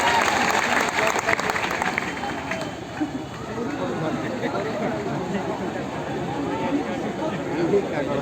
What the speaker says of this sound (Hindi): एक बार इनके लिए जोरदार ताली हो जाए।